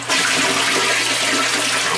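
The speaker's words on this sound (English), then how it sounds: "We flushed it a bunch of times." A household toilet flushing during a service call for a leak onto the floor: a steady, loud rush of water lasting the whole stretch, close to the microphone, with no talk.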